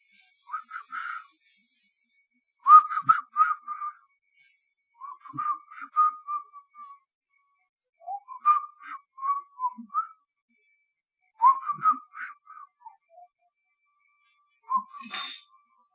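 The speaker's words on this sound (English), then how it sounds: "He's whistling, but it's not working out." A person whistles a Christmas sleigh-bells tune in short, bright melodic phrases with pauses between them, close and fairly clear, ending with a brief clink.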